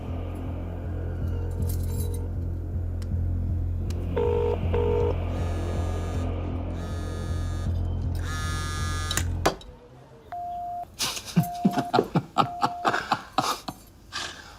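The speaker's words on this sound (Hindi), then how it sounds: "चल फोन लगा उसे" Short electronic keypad tones beep one after another, with a steady hum and clatter before them and sharp clicks mixed in.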